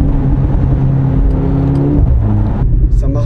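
Mercedes C63s four-cylinder pulling out of a corner on a damp road at part throttle, a loud rising engine drone with a brief gear-change dip near the end.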